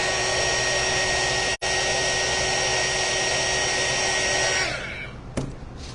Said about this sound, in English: So you can just use your heat gun.